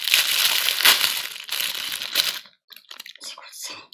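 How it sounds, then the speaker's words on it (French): Parcel packaging being unwrapped: loud, close crinkling and crushing of wrapping material in long ragged bursts, then a short quiet gap followed by lighter scattered rustles. "Je suis quand même obligé de le déballer."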